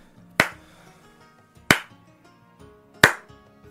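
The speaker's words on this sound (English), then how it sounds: "a very slow, sarcastic clap from the man in the chair" A man seated in a chair gives a very slow, sarcastic clap: three sharp, separate hand claps spaced more than a second apart, close and distinct against a quiet background.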